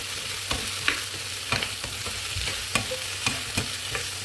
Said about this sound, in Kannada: ನೆಕ್ಸ್ಟ್ ಗೋಬಿ ಸಾರಿ ಆಲೂ ಹಾಕಿ ಸ್ವಲ್ಪ ಫ್ರೈ ಮಾಡಿ